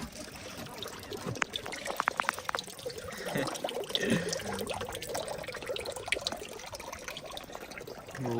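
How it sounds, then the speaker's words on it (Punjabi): Water pours and trickles steadily from the mouth of a frog fountain in Victoria, Canada, soft and fairly close, with faint background murmurs. "ਡੱਡੂ ਦੇ ਮੂੰਹ ਚੋਂ ਨਿਕਲਦਾ ਪਾਣੀ"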